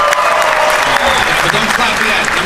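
Audience applause fills a large hall at a CPAC conference speech, steady dense clapping sustained throughout at high level with no pauses.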